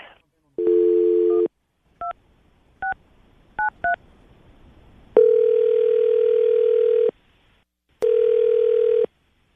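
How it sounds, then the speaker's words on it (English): Telephone dial tone and a quick series of touch-tone keypad beeps during a call placed live on a morning radio show, followed by longer steady ringback tones with silent gaps between. "See if we can get her on the phone and ask her why she's blowing you off"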